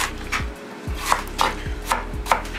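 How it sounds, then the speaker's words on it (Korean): A knife chops radish into cubes on a cutting board, four or five distinct thuds at an unhurried, fairly even pace, close and clear with no voices. "무도 네모나게 깍두기처럼 썰어주고요"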